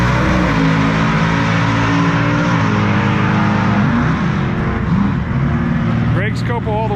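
A COPO Camaro with a Magnuson blower roaring down a quarter-mile drag strip, a loud continuous engine drone that shifts pitch near the end, with voices talking over it.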